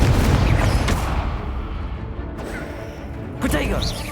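The Incendio fire spell cast in Hogwarts Legacy gives a loud, roaring burst of flame and boom that carries on under a voice, then a second whooshing blast near the end.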